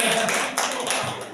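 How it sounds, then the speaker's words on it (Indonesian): Classroom pupils clapping their hands together, a dense burst of many claps, fairly close and lively, with faint voices mixed in. "tepuk tangan dulu."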